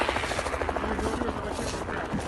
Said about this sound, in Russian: На вертолетах на рыбалку летают.